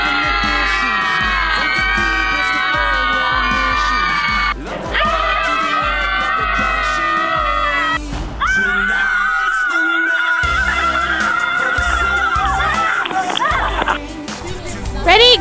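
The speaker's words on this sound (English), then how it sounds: "scream for a long time, okay?" Outdoors at an Easter scavenger hunt, a group of children scream together in long sustained bursts, loud and close, with a few short breaks between the sustained screams.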